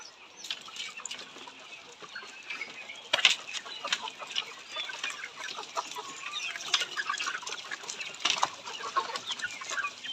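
Layer hens on a poultry farm cluck and squawk continuously, a busy chorus of overlapping calls with occasional louder cackles and wing flaps.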